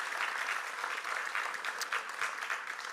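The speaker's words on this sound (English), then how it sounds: "if y'all can just give them a round of applause too" Steady applause from a crowd at a Mt. SAC Black student graduation ceremony, a continuous soft wash of many clapping hands, somewhat distant, with no speech over it.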